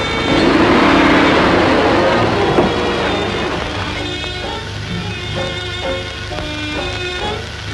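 A car drives off, its engine loud and close at first as it pulls away, then settling into a steadier, fading running hum.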